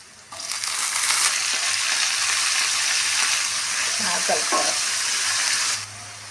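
Green chilli pieces and chopped banana stem fry in hot oil, giving a loud, steady broadband sizzle that starts abruptly, holds for several seconds with brief stirring scrapes partway through, then drops away near the end. No one speaks.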